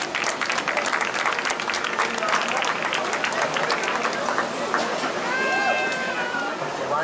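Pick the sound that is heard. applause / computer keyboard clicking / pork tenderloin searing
applause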